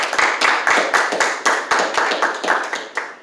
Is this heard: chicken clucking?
no